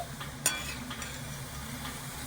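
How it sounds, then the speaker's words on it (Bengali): Small chushi pitha dumplings fry in hot oil with a soft continuous sizzle, one brief sharp clink of a utensil near the start, quiet and close with no talking. "আবারও তেলের মধ্যে অল্প অল্প করে দিয়ে ভেজে নেব"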